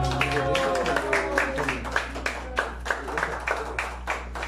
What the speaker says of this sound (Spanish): El aplauso que se escuche, bien bonito.